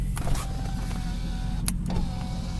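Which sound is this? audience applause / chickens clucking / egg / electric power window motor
electric power window motor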